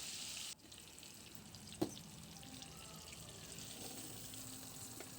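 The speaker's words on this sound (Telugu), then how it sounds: "ఇప్పుడు మిగతా ముక్కల్ని కూడా వేసుకుని ఇలాగే వేయించుకుని ఒక ప్లేట్లోకి తీసుకుని పక్కన పెట్టుకోవాలి" Fish pieces fry in hot oil, giving a steady hiss that drops abruptly early on, then continues at a lower, even level with one sharp clink partway through.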